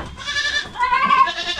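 A mother goat with three brown kids bleats twice in quick succession, loud and close, wavering calls with no talking.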